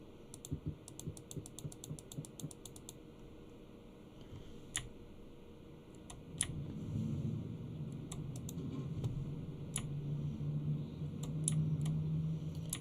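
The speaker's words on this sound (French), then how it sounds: "En plus, mon clavier n'est pas discret non plus." Clattery keystrokes from a noisy computer keyboard come in quick quiet bursts at first, then thin out to scattered clicks over a low room hum.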